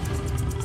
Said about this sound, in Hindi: गोलू जानवर की दहाड़ को कोसों दूर से सुनकर महसूस कर सकता था